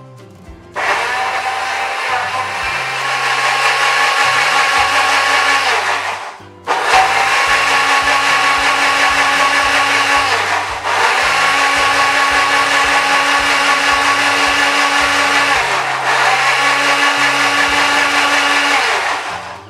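A kitchen blender crushes ingredients with no added water to make a natural juice for an organic hair-growth serum. The loud, steady motor whir runs close up in long bursts, with a clear stop near the middle and brief dips later, and no one speaks.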